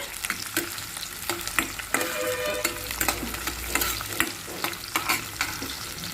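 Onions and garlic stir-fried in a pan for garlic kulambu: close, lively sizzling broken by regular spatula scrapes and knocks against the pan, with no one speaking.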